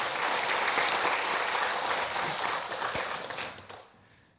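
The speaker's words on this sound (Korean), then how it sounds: "우리 격려의 박수, 그리고 하나님께 영광의 박수 올려드립시다" A church congregation in Jeonju claps warmly after a sung worship performance, a brisk full round of applause that tapers off and stops within a few seconds.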